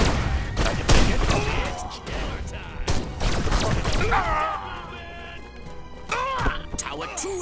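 Heavy gunfire during an attack on a tower in Destroy All Humans, with rapid volleys, thuds and booms layered densely, loud and busy, while voices and game dialogue talk over the battle.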